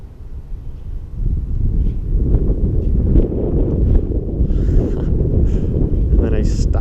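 Gusty wind roars across the microphone during a stormy-day flight of a UMX Conscendo RC glider, a steady low rumble that swells after the first second and stays loud throughout.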